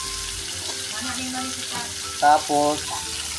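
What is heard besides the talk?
sautéing chopsuey ingredients in a pan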